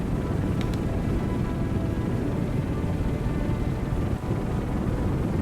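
Continuous loud roaring drone of aircraft launching off a carrier deck in the video game Aircraft Carrier Survival, steady and engine-like with a broad rumble and no pauses.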